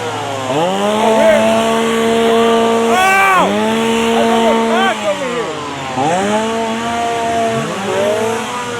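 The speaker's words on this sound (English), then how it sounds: "we're hearing it with all the chainsaws and adds so much to it" Chainsaws rev again and again in a haunted house scare zone at Halloween Horror Nights, loud engines swooping up and down in repeated surges with background noise from the crowd.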